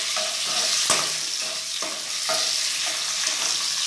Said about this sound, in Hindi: इसको थोड़ा सा भून लें।